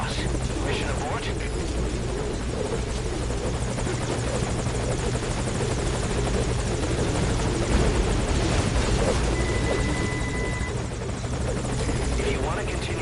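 A helicopter hovers nearby in Metal Gear Solid V: Ground Zeroes, its steady rotor thrum and engine whine droning loudly and without a break for about thirteen seconds.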